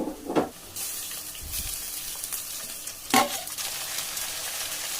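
Chopped farm tomato stirred into frying onions in a pan for a spicy masala pumpkin gojju, with a steady sizzle broken by a couple of sharp scraping clatters of the spoon, close and alone.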